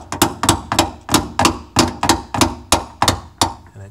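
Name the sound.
hammer striking hinge pin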